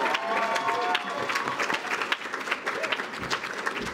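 A banquet audience applauding and cheering to welcome a speaker onstage, dense clapping with whoops and scattered voices, loud and close, tapering slightly toward the end.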